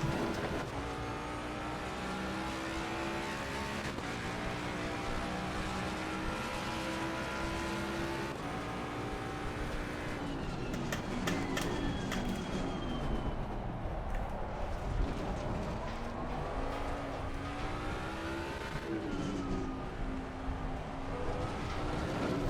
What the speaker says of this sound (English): now we drive the car